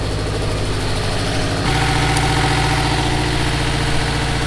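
A JDM EJ205 flat-four in a Subaru GC8, long stored and running with one injector unplugged, idles roughly and unevenly, a steady close, loud engine rumble with a slight change in tone partway through, no voices.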